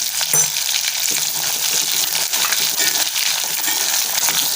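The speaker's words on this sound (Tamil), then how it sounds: "ஒரு 10 பல்லு பூண்டு எடுத்துருக்கேன், இதை சேர்த்துக்கிறேன்." Chopped shallots and garlic cloves frying in a pan for a curry, giving a loud, close, continuous hiss and crackle with a few stirring knocks and no voices.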